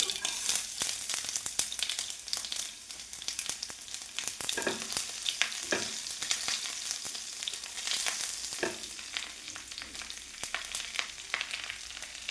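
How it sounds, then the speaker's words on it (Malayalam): Finely chopped garlic frying in oil with mustard seeds that have already popped makes a continuous crackling sizzle with scattered sharp spits and occasional stirring sounds, held steady and close with no voices. "കടുക് പൊട്ടിയിട്ടുണ്ട് ഞാൻ അതിനകത്തേക്ക് ഇത്രയും വെളുത്തുള്ളി ചെറുതായിട്ട് ഇട്ട് കൊടുക്കാം"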